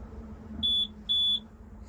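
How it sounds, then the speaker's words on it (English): Two sustained electronic beeps, like a smoke alarm chirping unexpectedly, sound at moderate volume over low background hum, each lasting about a quarter second and spaced roughly half a second apart. "An inappropriate beep going on."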